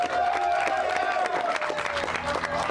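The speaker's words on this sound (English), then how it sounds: "So round of applause." A crowd applauds a tour guide named Mario during a night out, clapping and cheering mixed with voices and a sustained tone, moderately loud and busy.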